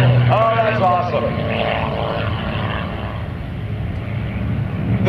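Propeller aircraft droning overhead at an airshow alongside the Goodyear Wingfoot 1 airship, a steady loud engine hum with a brief whistling tone at the start; a voice speaks early on.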